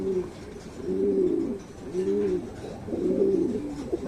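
A double-banded racing pigeon at a loft during a pooling race coos in three rolling phrases about a second apart, near and fairly soft, with no talk over it.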